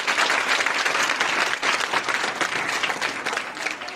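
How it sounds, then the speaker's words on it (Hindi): Students clapping together for Class 11 at a school farewell party, a dense, steady burst of applause from a large group filling the room for about four seconds with no talk over it. "तो 11th के लिए भी तालियां बजाओ।"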